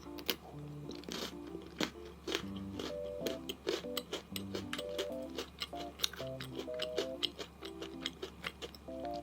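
Close crunchy bites and chewing of a Thai snack, with repeated crisp crackles in an uneven rhythm over soft background music with a melody.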